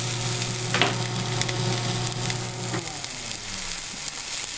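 Pot roast meat browning in a hot pan, giving a steady close sizzle and crackle that runs throughout with a few brief sharper spits.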